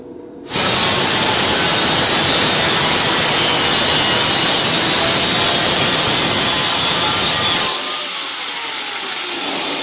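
A cutter scoring lines into a plain metal sheet for pipe grill work gives a loud, harsh, continuous grinding roar close up that starts abruptly, runs steadily, then drops to a softer whine near the end.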